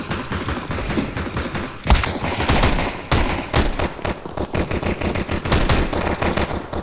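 Sustained automatic gunfire in Counter-Strike 2, dense rapid bursts of loud shots running almost continuously with brief pauses, close and dominant, with no talk over it.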